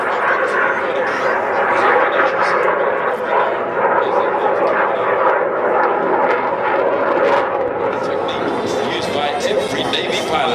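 A Navy F/A-18 Hornet jet makes a slow-speed pass with afterburner, a steady loud roar that swells slightly near the end, while someone narrates over it.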